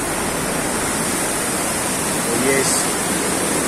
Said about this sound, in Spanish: ahorita estamos en el río Felidia